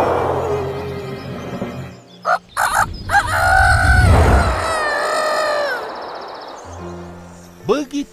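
A rooster crows loudly up close, its long drawn-out call rising and bending in the middle, with a voice speaking before and after it.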